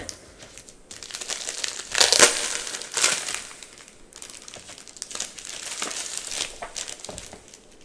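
A package of sublimation paper, a 110-sheet pack, is handled close up, its plastic wrapping crinkling and crumpling in loose bursts, with two louder rustles near the middle.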